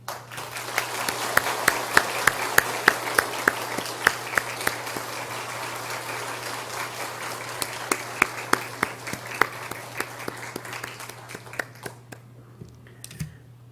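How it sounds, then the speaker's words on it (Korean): A church congregation applauds during a Sunday worship service, with sustained clapping carrying through the room and sharp individual claps standing out. The applause thins and fades toward the end. "우리 다 함께 큰 박수로 축복하겠습니다."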